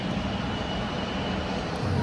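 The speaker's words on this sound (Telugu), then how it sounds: "ఫ్లైట్ ఆడ టేక్ ఆఫ్ కావడానికి స్టా ఇదవుతుందండి స్టార్ట్ అవుతుంది చిన్నగా వెళ్తుంది" A fixed-wing airplane starts its takeoff roll at RDU airport in the evening, its engine a steady, broad roar that swells slightly near the end, heard from fairly close by.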